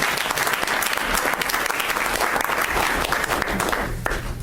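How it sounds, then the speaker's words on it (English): A committee meeting audience gives a departing member a round of applause, dense and continuous clapping lasting several seconds, fairly loud in the room. "I'd like everybody to join me in a round of applause for her first experience"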